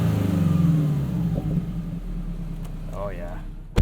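Subaru BRZ fitted with an FT86 catted UEL header and tune gives a deep, loud exhaust burble that tapers off over a few seconds, with a voice talking briefly near the end.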